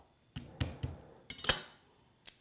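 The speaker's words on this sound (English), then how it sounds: "Easiest way to chop garlic is just pound them with a flat knife" A flat kitchen knife blade strikes garlic cloves on a cutting board about six times, in sharp, close knocks with one louder metallic smack in the middle and a final lighter tap after a pause.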